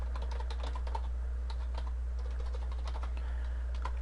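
Rapid, irregular typing on a computer keyboard, a quick patter of light key clicks at close range, quiet and steady over a low constant hum.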